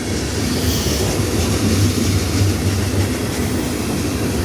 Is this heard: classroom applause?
no